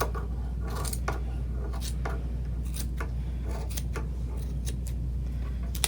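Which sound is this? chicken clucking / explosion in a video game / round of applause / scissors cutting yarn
scissors cutting yarn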